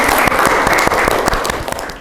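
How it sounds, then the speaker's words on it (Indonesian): A room of students applauds at the close of a group presentation in a teaching practice class, a dense, steady wash of clapping heard close up, with a few louder individual claps standing out. "Oke, aplaus dulu."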